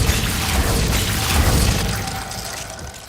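A Glacius ice spell cast in Hogwarts Legacy, heard as a dense, crackling burst of noise with a low rumble and brittle shattering texture, steady for about two seconds and then thinning out.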